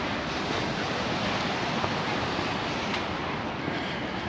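Sea waves at Ca'n Pastilla, Mallorca, surging and splashing against a sea wall. The roar is steady, loud and close, with continuous churning wash and wind-like hiss and no voices.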